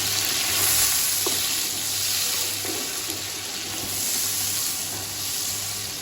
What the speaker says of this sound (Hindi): प्याज को अच्छा सा सुनहरा ब्राउन आने तक हम इसमें भूनेंगे